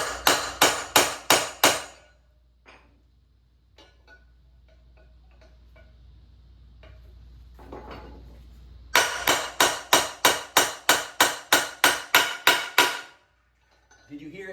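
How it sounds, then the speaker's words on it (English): A hammer drives a retainer sleeve into place on a T-56 transmission of a 2003 Mustang Cobra, delivering two loud bursts of rapid, ringing metallic blows, about eight strikes each, separated by a quiet pause. "I'm going to make sure it's centered and hammer it down."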